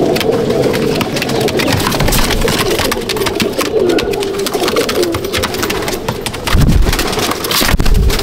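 Pigeons in a loft, including black-tailed Kaldum birds, coo continuously in overlapping, rolling calls close by, with wing flutters and scuffling bursts toward the end.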